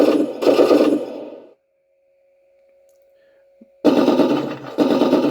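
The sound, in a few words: machine gun sound effect from a 1/16 RC tank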